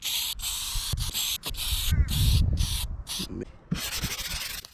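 Spraying and sanding paint on the boot of a BMW E90 during a DIY paint repair: bursts of hissing spray alternate with rough, rhythmic rubbing strokes, close and fairly loud, with no talk.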